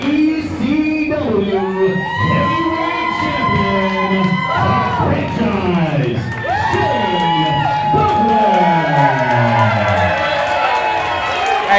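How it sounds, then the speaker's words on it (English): At a Black Diamond Universe wrestling anniversary show, the crowd cheers and whoops loudly and steadily for a legend's ring entrance, with bursts of yelling and loud voices over a dense, continuous roar. "the Black Diamond crowd giving up for the legend, Shane Douglas"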